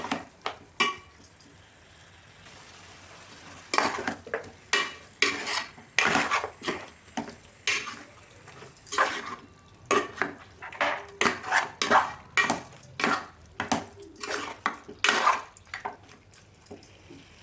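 A spoon stirs and mixes mutton curry pieces in a metal bowl, producing repeated irregular scraping clinks and clatters, close and fairly loud after a quiet start, with no talking.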